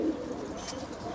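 Low, faint cooing from a pigeon in an old-breed kabutar collection, with soft air noise and no voices.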